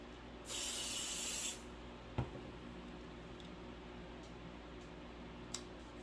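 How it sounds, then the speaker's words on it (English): A short burst of hissing spray adhesive lasts about a second, followed by a sharp tap and faint ticks in a quiet room, during crafting on a wood box. "Any spray adhesive would work for this too."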